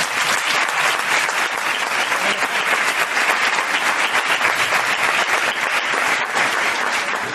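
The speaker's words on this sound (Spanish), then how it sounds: "vamos a dar un fuerte aplauso a los invitados" A crowd of event guests applauds, many hands clapping in a dense, continuous burst that holds steady for several seconds.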